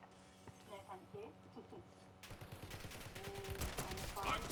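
Call of Duty gunfire rattles in quick repeated shots, rising to a louder sustained volley in the second half, with a voice talking over the game.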